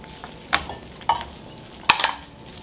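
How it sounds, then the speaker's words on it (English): Artichoke dip with chopped artichoke hearts and minced garlic is stirred in a bowl, giving three sharp utensil scrapes and clinks against the bowl, spaced about half a second apart, close and clear with no talking. "So we're going to mix all that up real good."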